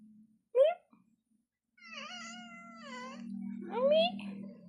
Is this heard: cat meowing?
yes